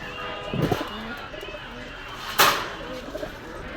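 Soft coos of Pakistani high-flyer pigeons sound intermittently amid light background noise, with a brief sharp burst partway through.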